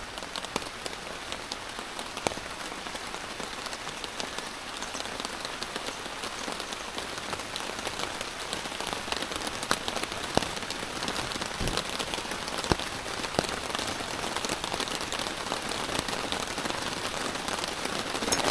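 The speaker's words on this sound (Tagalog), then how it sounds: "Yan pala yung itsura ng ulan." Steady, dense rain falling at a farm campsite in Tanay, Rizal, an even hiss of countless drops with occasional louder ticks, continuous throughout and no voices.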